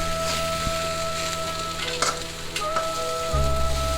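Bitter gourd with garlic fries in oil in an old wok, making a continuous close sizzle with a low steady hum underneath and a soft clunk near the end.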